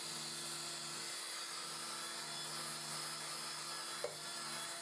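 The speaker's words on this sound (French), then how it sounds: "Et je pourrais me permettre immédiatement un premier ponçage" A 300 mm wooden bowl is sanded while spinning on a lathe at about 2000 rpm: a steady, even rubbing whir over a constant machine hum with one brief knock, and no talking.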